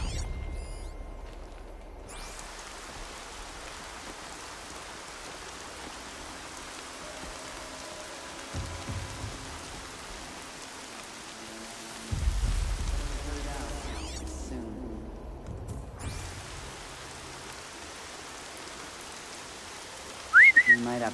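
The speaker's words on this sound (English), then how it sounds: "Lion's thirsty for rain." Steady rain falling in the video game Horizon Zero Dawn, a soft continuous hiss that persists throughout, with low music swells and a brief sharp sound near the end.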